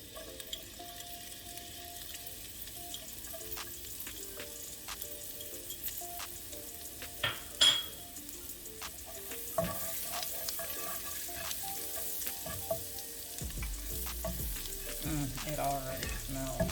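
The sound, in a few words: garlic frying in butter in a skillet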